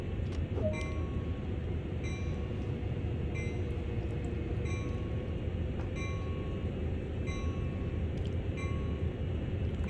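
A CSX heavy-haul freight train in Train Sim World pulls out of the yard on the Sand Patch route, a continuous low diesel rumble with faint, repeated cab beeps.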